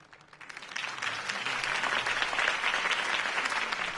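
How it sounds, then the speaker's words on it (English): Applause from a crowd in the video game Batman: The Telltale Series swells quickly from a few claps into a dense, steady wash of clapping that continues loudly to the end. "If only Mr. Wayne, my campaign's largest backer, could have heard that applause"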